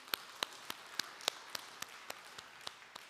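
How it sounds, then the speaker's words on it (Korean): Applause in a Korean church during a Palm Sunday worship service, sounding as a faint, sparse series of distinct claps spaced about a third of a second apart. "우리 하나님께 감사 영광의 박수 올려드리겠습니다."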